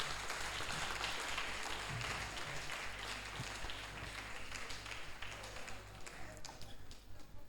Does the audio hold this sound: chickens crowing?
no